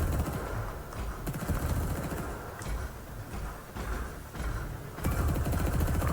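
Dense, sustained rapid gunfire in the video game Risk of Rain 2 while playing as Acrid, loud and continuous with a few brief dips, layered with game effects and no talk.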